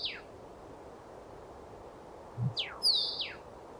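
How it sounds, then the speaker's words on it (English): A mistletoebird call in the Wingspan video game: a few thin, high descending whistles, one at the start and a pair near the end, clear against a quiet background hiss. "Mistletoe bird."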